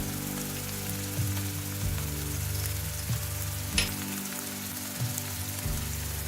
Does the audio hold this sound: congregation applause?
no